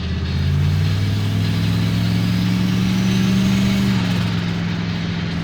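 Engine of a car driving in third gear, a steady droning hum at constant revs with a slight pitch shift midway, loud and close, no talking.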